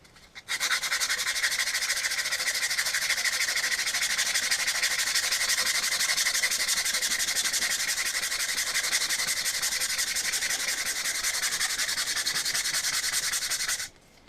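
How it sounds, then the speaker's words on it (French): Sandpaper rubbed by hand over the mold lines of a Ford GT scale model, a continuous close, even scratching hiss that starts abruptly, holds steady for about thirteen seconds and stops. "d'aller finalement l'utiliser un petit peu pour pouvoir après aller poncer mes lignes de moulage"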